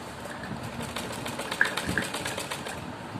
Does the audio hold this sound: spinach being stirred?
no